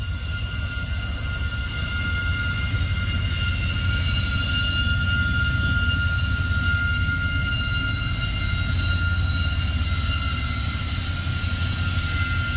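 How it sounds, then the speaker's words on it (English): A CSX freight train rolls past with a steady, loud, broadband rumble and sustained tonal whine, constant throughout with no pauses and no voices. "we got a CSX coming here"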